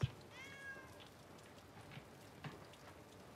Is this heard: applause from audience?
no